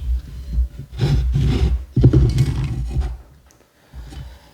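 Hand saw cutting a piece of wood along a speed square, a few rough rasping strokes close up, ending in quiet.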